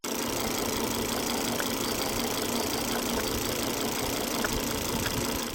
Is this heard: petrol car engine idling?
yes